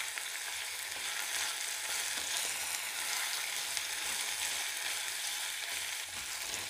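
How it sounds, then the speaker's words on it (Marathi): Chopped carrot and green chilli are sautéed with onion in hot oil in a pressure cooker for masala pulao. A steady, bright sizzle hisses without a break, with faint stirring underneath and no voices. "हे सगळे जिन्नस कांद्यासोबत चांगले परतून घ्यायचे आहेत"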